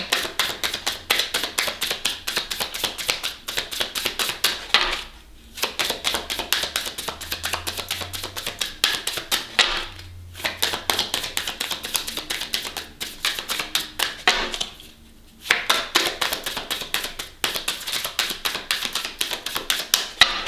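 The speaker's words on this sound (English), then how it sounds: "one more shuffle and then I'm going to pick one." A deck of tarot cards being shuffled, rapid riffled flicking in several bursts of about five seconds each, separated by brief pauses.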